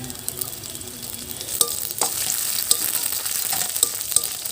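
Garlic and green chillies frying in oil in a pan: a continuous bright sizzle with scattered crackles and pops and occasional stirring scrapes, close and steady throughout.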